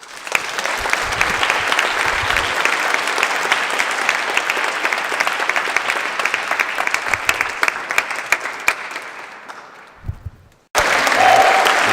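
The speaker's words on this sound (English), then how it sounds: "let's give them a round of applause" Wedding guests give the newly married couple a full round of applause, dense and sustained for about ten seconds before tapering off, then bursting back loudly at the end.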